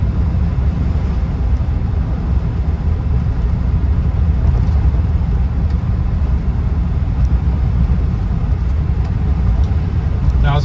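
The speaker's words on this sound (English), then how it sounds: "Speedo says we're doing 60 miles an hour now, and it's just loping along really quite happily" Cabin of a 1976 Rolls Royce Silver Shadow cruising at 60 mph, a steady loud low rumble of engine and road noise holding constant throughout, with someone talking over it.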